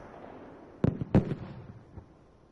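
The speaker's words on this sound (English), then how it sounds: "we've got grenades being tossed. And I believe that was a dynamite in there as well" Grenades and dynamite going off in a video game battle: two close heavy blasts in quick succession, followed by smaller rumbling pops that fade away.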